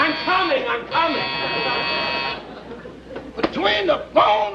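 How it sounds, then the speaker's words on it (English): A door buzzer sounds in a steady tone for a couple of seconds, then again in short bursts, with people talking and laughing over it in an old radio comedy scene. "Between the phone ringing and the door buzzer, I'm a nervous wreck."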